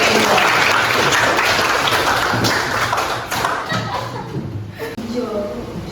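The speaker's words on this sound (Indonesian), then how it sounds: "Oke, tepuk tangan." A classroom of students breaks into loud, dense clapping that thins out after about three seconds, with voices and light laughter mixed in.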